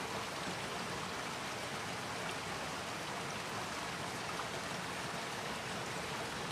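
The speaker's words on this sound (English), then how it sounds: "I think the water would be a little bit too loud over here" River water flowing steadily in a Rhode Island nature setting, a continuous broadband rushing wash with no breaks, fairly loud and close, and no voices.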